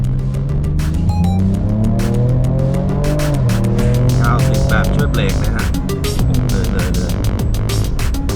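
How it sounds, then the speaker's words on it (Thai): A Ford Ranger Raptor pickup in sport mode revs hard as its turbo engine roars loud and close, with climbing and falling engine pitch through gear changes and some tire noise, no voices. "เสียงเทอร์โบลั่นมาเลย พอเปิดโหมดสปอร์ตนะครับ"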